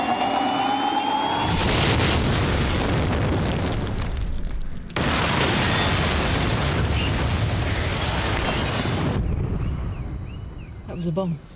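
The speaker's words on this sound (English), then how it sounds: "That was a bomb." A bomb goes off near a car in a tense spy drama, a sudden loud roaring blast that swells into a long sustained rumble, cuts briefly, then roars on before dying away.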